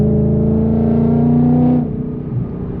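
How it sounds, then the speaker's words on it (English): Car engine revving hard under acceleration in a car-vlogging POV setup, a loud sustained harmonic drone that drops off sharply near the end as the throttle lifts, leaving a lower rumble. "this car is pretty loud. So as I'm talking and accelerating"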